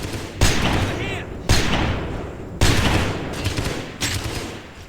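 Sniper rifle shots ring out in the shooter game Halo SPV3 during a firefight with the Flood, four loud, sharp blasts spaced about a second apart, each with a booming decay, as a voice talks alongside.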